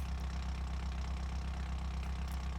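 A Honda Civic VTEC in BeamNG.drive idles with its exhaust removed, giving a steady, loud low rumble with a rapid regular pulse and no other sounds.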